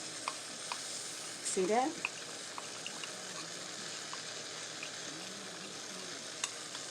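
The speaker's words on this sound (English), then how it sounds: "you're going to give that a little stir to get those lumps out of that cornstarch" Lumpy cornstarch mixture being stirred in a bowl, a short scraping swirl rising briefly above a low kitchen background, with a voice speaking just before.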